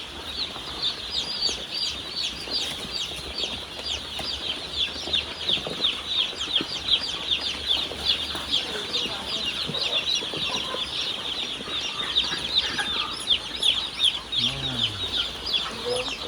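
Many chicks peep constantly at close range on a farm, forming a dense, high, overlapping chorus. It carries on steadily throughout, with faint handling noise and scattered low sounds beneath.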